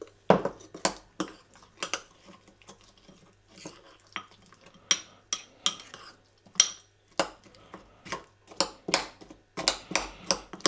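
A spoon scrapes and knocks around a bowl of warm breakfast oats in a run of quick, close clinking strokes, with brief pauses between bursts and no talking.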